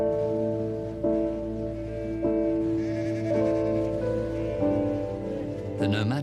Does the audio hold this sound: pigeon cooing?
no